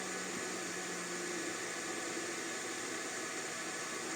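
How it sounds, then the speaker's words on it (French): Bitcoin mining rig fans, modified for quiet running, give a steady broadband whooshing hum that fills the whole clip, running continuously with no clear drop in speed and no talk. "Alors les ventilateurs se sont lancés au maximum. Là ça va ralentir et après ça va se stabiliser."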